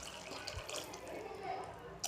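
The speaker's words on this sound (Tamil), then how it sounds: "நான் இப்போ அரை சம்பு தண்ணி ஊற்றிக்கிறேன்." Water runs steadily for a couple of seconds with a soft splashing, close by, poured into a cooking pot; a faint voice sits beneath it.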